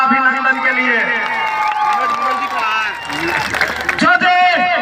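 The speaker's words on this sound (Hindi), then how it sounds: "इन्हें कर लिए जोर से एक बार ताली बजा दो अभिनंदन के लिए।" A crowd at a political rally in a Jharkhand village claps and cheers, with a loud voice over a public address system talking on top before the applause swells near the end.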